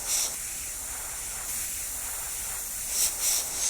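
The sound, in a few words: airbrush spraying paint over a stencil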